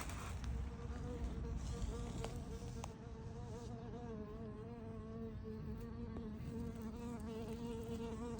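Solitary bees buzzing steadily around nest holes in the ground or a wall, several insects droning close by and continuously with small shifts in pitch, no talk.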